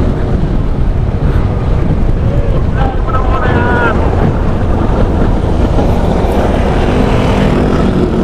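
Strong wind buffets the microphone outdoors on a coastal road in Ilocos Norte, a loud, steady roar of low rumble filling the whole stretch without a break.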